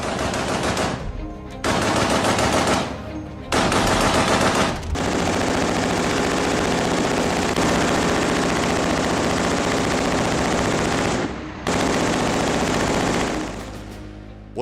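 Belt-fed Browning machine guns fire long sustained bursts, loud, dense and continuous, broken by brief pauses before firing resumes.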